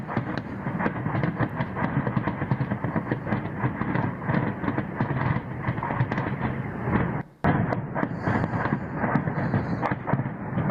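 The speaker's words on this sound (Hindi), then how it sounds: "किस तरह से बमबारी लगातार हो रही है। रॉकेट्स जो है वो लगातार दागे जा रहे हैं यहां पर।" Continuous dense rumbling booms and crackling blasts from bombardment and rocket fire in Kyiv, Ukraine, loud and sustained without pause, with one brief dropout partway through.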